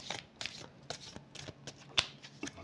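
A deck of tarot-style cards shuffled and drawn at random, close papery riffles and slides coming in quick repeated bursts with a sharp flick near the middle.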